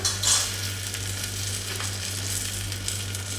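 Turmeric stirred into dudhi and chana frying in a pan over a medium-low gas flame with curry leaves, a steady close sizzle with a faint low hum beneath and no talking.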